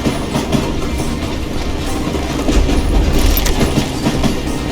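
Loud, continuous rumble and clickety-clack of a freight train with log-laden flat cars rolling along in Call of Juarez: Gunslinger, steady wheel and rail noise with no talk.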